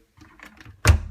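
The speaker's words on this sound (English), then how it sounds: "Simple pull out opens the door" Faint clicks and light handling, then a sharp close thunk-like pop as a Haier HWD80-1482 washer dryer door is pulled open after unlocking, near and loud.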